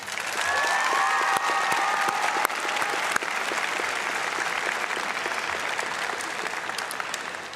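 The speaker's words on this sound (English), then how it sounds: "Please give them a hearty round of applause." Sustained, loud applause from a graduation ceremony audience for a commencement, dense clapping from a large crowd continuing steadily throughout.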